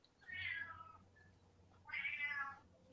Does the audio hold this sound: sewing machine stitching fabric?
no